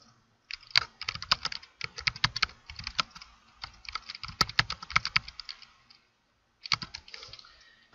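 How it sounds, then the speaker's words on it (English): Someone typing a quiz question on a computer keyboard, rapid bursts of close, crisp key clicks with a short pause before a final burst. "You type in your question here."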